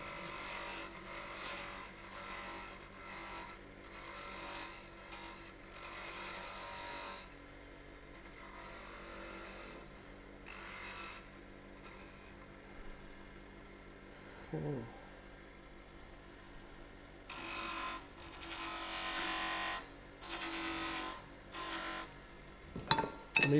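A woodturning lathe spins a mini birdhouse ornament while a tool cuts a bead, giving bursts of hissing, scraping cuts between quieter stretches of motor hum.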